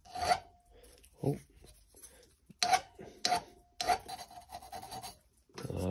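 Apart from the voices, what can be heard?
metal file filing car part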